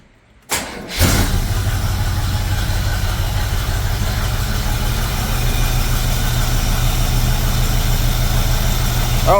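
A 1973 Chevrolet Camaro split-bumper with its stock engine cranks briefly, fires up loudly, and settles into a steady, slightly uneven rumbling idle, close and alone.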